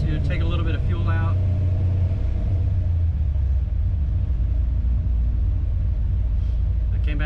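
Ford F100 engine running on a dyno with Holley EFI drops back from higher revs and settles into a low, steady rumbling idle, loud and close, with someone talking over it.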